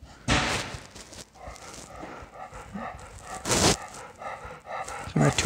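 Two puppies, one young and one old, make short sharp bursts that could be barks or yips, mixed with panting and scuffling close by, and there are faint voices in the background.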